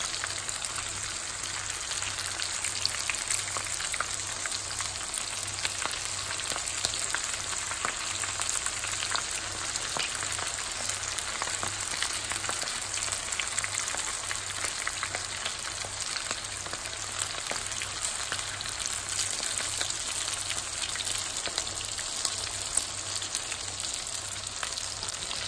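Stuffed jalapeno chilies fry in oil in a pan over a medium flame, giving a steady, even sizzle with fine crackling that runs unbroken throughout, no voices present.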